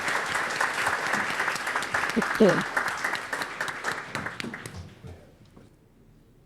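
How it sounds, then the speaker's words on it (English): An audience gives a round of applause at a business event for New Orleans entrepreneurs, sustained clapping that gradually tapers off over several seconds while a voice speaks briefly over it. "Let's give them a big round of applause."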